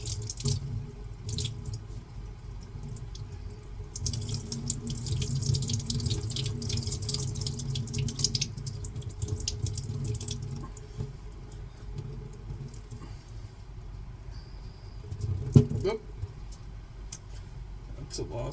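Potatoes being washed under a running kitchen tap, a steady splashing water stream with scattered drips and clatter, one sharp knock near the end, and faint voices in the background.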